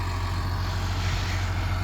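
A New Holland T6050 tractor engine runs steadily at close range, a continuous low-pitched diesel rumble with no breaks or speech.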